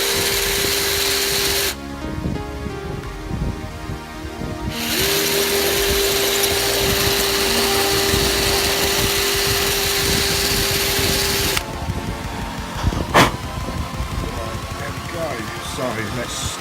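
A power tool bevels out a hole in a vape box mod, whining with a steady pitch in long bursts that stop and restart, with scraping and clattering in the gaps.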